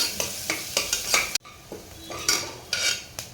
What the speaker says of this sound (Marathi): कांदा सुद्धा तेलामध्ये व्यवस्थित परतून घ्यायचा आहे